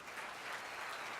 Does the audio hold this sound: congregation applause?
yes